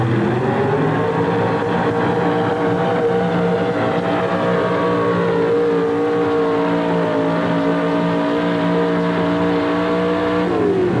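A Chevrolet truck at a truck-pulling event drags a sled down the track. Its engine roars loud and sustained, with the pitch slowly climbing as it pulls and a clear change near the end.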